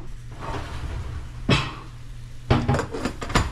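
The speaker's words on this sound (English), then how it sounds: "And I'll put a lid on it." A lid set onto a cooking pot on a stove, giving a couple of brief metallic clanks and a rattle, close by in a quiet kitchen.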